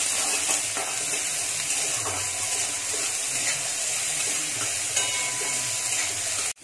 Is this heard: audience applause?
no